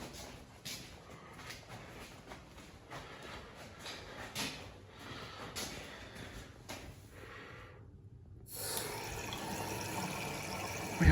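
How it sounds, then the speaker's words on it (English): Steady hiss of running water, fairly quiet, with a few clicks and knocks, a brief dip near the end before the flow resumes more strongly. "We have water coming from a sink."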